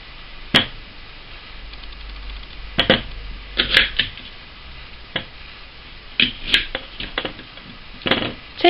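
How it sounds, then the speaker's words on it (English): Apples being cut into slices with a knife for apple and blackberry jam, giving a series of sharp, close chopping taps at irregular intervals against a quiet background. "To prepare the apples for the jam pan, wash them and dry them and then cut them into slices."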